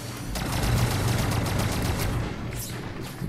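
Rapid bursts of secondary weapon fire from the Dragonfly battleframe in the sci-fi shooter Firefall, a dense crackling volley of repeated shots lasting about two seconds, then tapering into scattered reports and a swooshing effect.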